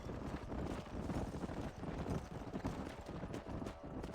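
Horse hooves gallop in Red Dead Redemption as a rider drives a herd up a canyon, a steady, dense clatter of many hooves filling the whole stretch over a low wind-like rumble.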